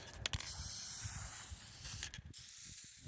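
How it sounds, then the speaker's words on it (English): Aerosol spray paint hissing from a can in short broadband bursts, with a couple of louder blasts near the start, fairly close and steady, then sputtering out toward the end. "So let's get spraying."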